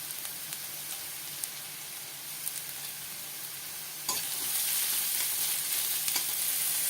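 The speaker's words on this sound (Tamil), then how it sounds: "இதிலே கட் பண்ணி வச்சுருக்க மஷ்ரூம் போட்டுடலாம்." Cut mushrooms fry in a pan with crushed garlic for mushroom soup, producing a steady close hiss that jumps louder as more pieces hit the hot oil midway and keeps sizzling.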